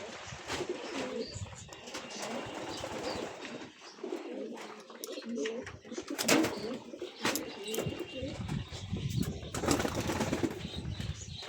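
Pigeon flapping its wings as it settles onto its two eggs, with soft coos and rustling close by and a voice talking at times over the sounds.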